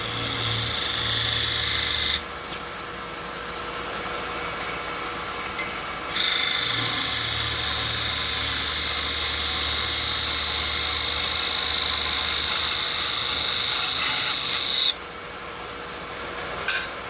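A lathe cuts a groove into a spinning wooden baseball bat, a steady whining motor hum with a brighter, higher cutting tone that starts and stops in long stretches, close and continuous.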